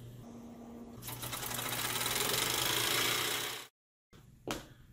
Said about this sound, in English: This model steam engine.